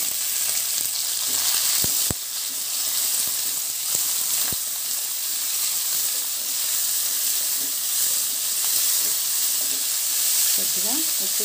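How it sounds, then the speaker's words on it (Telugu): Onions, green chillies and capsicum pieces sizzle steadily in a pan for a Telugu capsicum-tomato curry, a continuous bright frying hiss with a few sharp clicks and stirring scrapes, close and fairly loud, with no talking. "ఇందులో ఉల్లిపాయలు పచ్చిమిరపకాయలు క్యాప్సికం ముక్కలు అన్ని ఒకేసారి"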